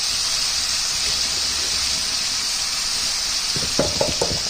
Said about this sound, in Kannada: ಸ್ವಲ್ಪ ಟೊಮೆಟೊ ಬೇಯಲಿ.